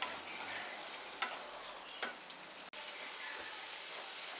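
Masala with a pinch of sugar frying in oil in a pan, a continuous close sizzle broken by several scraping stirs and a brief sharp knock, steady and fairly quiet with no voices.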